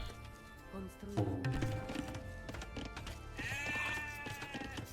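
Sheep bleating in the real-time strategy game Age of Empires II, repeated calls mixed into game music and other game sounds, with someone talking over them.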